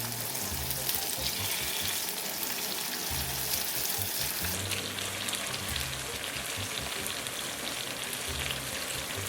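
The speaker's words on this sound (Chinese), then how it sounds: "等葱油熬好以后，放入豆腐片煎制。" Tofu slices frying in scallion oil in a pan, a steady dense sizzle throughout with faint clatters from the utensils and no voices.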